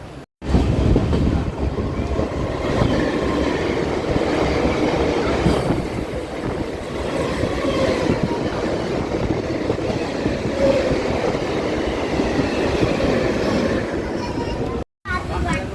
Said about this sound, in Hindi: तो अपनी गया पटना पैसेंजर पहुंच रही है नदौल रेलवे स्टेशन पे